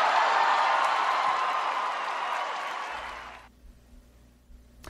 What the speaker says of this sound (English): the crowd went crazy